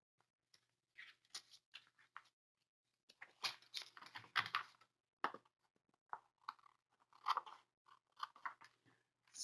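Scissors snip through paper for a collage in short, crisp bursts of cutting with brief pauses between, close and fairly quiet, with no talking.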